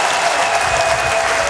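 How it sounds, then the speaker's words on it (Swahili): A crowd applauds the Dar es Salaam regional commissioner at a Yanga club event, dense and loud clapping sustained throughout without pause. "Makofi mengi kwake"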